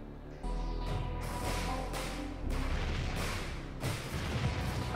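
Several heavy howitzer booms go off in succession in the video game REDCON, each a sharp loud blast with a rolling tail, spaced about a second apart.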